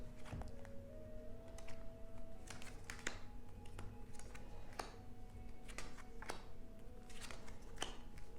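A deck of tarot cards is cut by hand, giving a scattered run of faint, crisp ticks and taps over a low, steady room hum.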